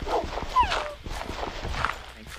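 Dogs in the game Minecraft whimper and yip in short rising whines, fairly close, over a busy game soundscape with footsteps and a person talking.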